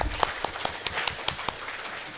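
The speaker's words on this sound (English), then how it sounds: "Round of applause for our presenters." Applause from a seminar audience during an awareness-week event, a short burst of scattered hand claps with distinct individual claps standing out over about two seconds, moderately close.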